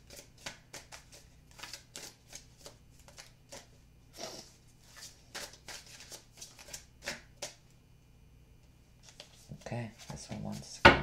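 Romance Angel oracle cards are shuffled by hand in a series of soft, crisp riffling bursts, fairly close, with brief pauses between them and a few quiet sounds toward the end.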